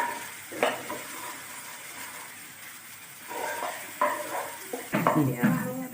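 Spice masala being stirred in a pan for a spinach and fish curry, with brief scraping and sizzling bursts around the first second and again near the end, close and moderately loud over a quiet background.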